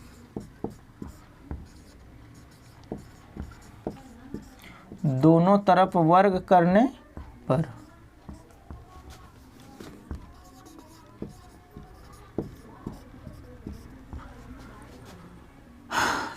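A pen scratches across paper while a math solution on real numbers is written out, squaring both sides of an equation: short, close, irregular strokes and taps throughout, with a brief louder, voice-like burst near the middle.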